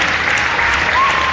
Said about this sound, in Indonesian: Tepuk tangan buat Mas Dewa